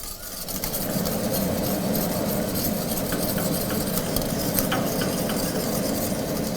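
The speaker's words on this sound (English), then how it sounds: "Now the milk starts boiling." Milk comes to a boil in a pan on the stove for pastry cream. A steady close hiss and bubbling run continuously with a few faint clinks and no talking.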